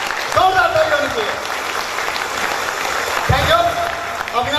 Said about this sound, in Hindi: तो नाउ एक जोरदार ताली मिस्टर अविनाश जी के लिए, जोरदार ताली होनी चाहिए।